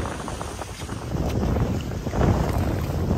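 Wind rushes at sea around a small 16-foot sailboat, a loud, steady buffeting roar with water sloshing beneath it and no talking.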